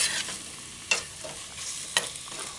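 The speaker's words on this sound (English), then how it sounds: "Once you do that, stir it in" Ketchup being stirred into a simmering chicken and broad bean stew, a soft steady bubbling sizzle broken by two or three sharp scrapes of a spoon against the pot.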